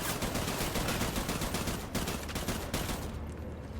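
Rapid gunfire in Death Stranding, a dense, fairly faint stream of shots crackling steadily for several seconds before thinning out near the end.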